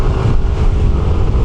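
Yamaha NMAX scooter engine revving after a downshift at around 40 km/h, a steady low motor drone mixed with wind rush from riding, no talking.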